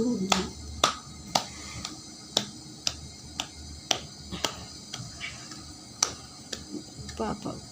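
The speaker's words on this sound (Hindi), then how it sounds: "बाबू ताली बजाओ।" Sharp hand claps at a home birthday celebration where a little boy claps along with his father, about a dozen fairly even beats over faint background voices.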